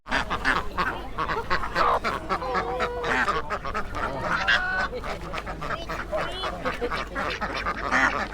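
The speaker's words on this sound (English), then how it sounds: "I think they're Indian runners." Several Indian runner ducks quack and honk over one another in a noisy, busy chorus at a poultry market in Roscommon, with a crowd murmuring faintly underneath.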